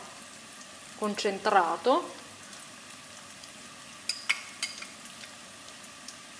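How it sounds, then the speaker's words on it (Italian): Tomato passata poured into a hot pan for Pugliese pasta e patate, giving a short bright sizzle and frying crackle, then a few scraping stirs against a quiet background, with a brief spoken word. "Aggiungiamo la passata di pomodoro"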